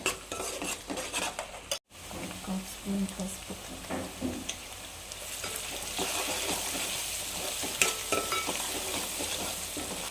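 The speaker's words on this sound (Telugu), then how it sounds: "ఇంట్లో ఆనియన్స్ వేసా ఫ్రై అవుతున్నాయి" Onions fry in a pan for a chicken curry, giving a continuous close sizzle with a spoon scraping and stirring at irregular intervals; a voice speaks occasionally over the frying.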